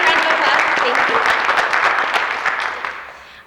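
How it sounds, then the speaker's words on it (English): Audience at a school district fall leadership meeting breaks into sustained applause, a dense wash of many hands clapping that fades gradually toward the end. "Can we have a round of applause?"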